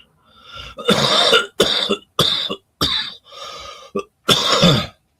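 A person coughs hard and repeatedly at close range, about seven harsh bursts in quick succession with brief pauses between.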